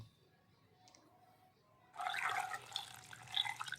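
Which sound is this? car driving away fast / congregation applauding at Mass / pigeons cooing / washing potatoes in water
washing potatoes in water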